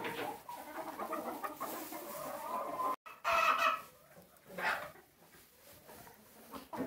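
Homestead chickens, a rooster moving among his hens, cluck and call close by in a busy flock, with one brief sharp break midway and intermittent louder bursts.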